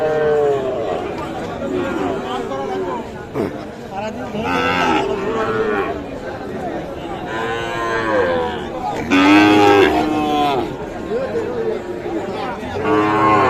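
Sahiwal bulls and calves moo repeatedly at a livestock market in Mymensingh, the lowing loud and close amid a busy crowd, with people talking and haggling throughout.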